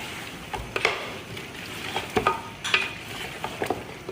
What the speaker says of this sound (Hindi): अब हम करेंगे थोड़ी सी इसके साथ भुनाई।